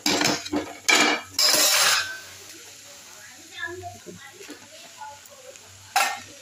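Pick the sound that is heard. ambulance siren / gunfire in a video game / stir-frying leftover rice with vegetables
stir-frying leftover rice with vegetables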